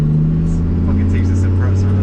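An Audi B5 S4 fitted with a swapped AAN 5-cylinder engine drones loudly and close, a steady, throaty tone holding throughout the short stretch.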